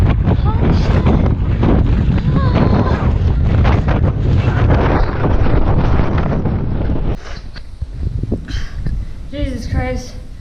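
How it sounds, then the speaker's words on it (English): Strong mountain wind batters the microphone in a constant loud roar on an exposed high trail, then drops to a lighter gusting rumble near the end as a voice speaks. "this wind is ridiculous"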